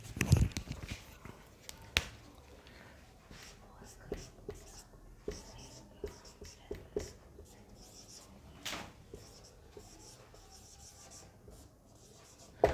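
A sentence is written by hand on a board during a basic English grammar lesson, giving soft, close scratching strokes and light taps in short irregular bursts, with no clear talking.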